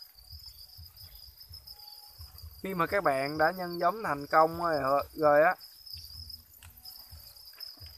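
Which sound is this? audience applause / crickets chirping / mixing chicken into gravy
crickets chirping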